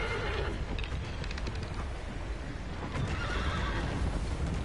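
A horse whinnies and snorts in the video game Shadow of the Colossus, mixed with hoof clip-clops and game background sound, fairly close and moderately loud.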